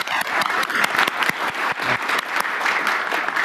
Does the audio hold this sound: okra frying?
no